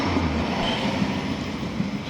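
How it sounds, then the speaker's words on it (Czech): A Tatra 15T tram rolls along with a steady, loud rumble and a continuous wash of wheel and motor noise throughout. "A teď tato tramvaj vjede do míst"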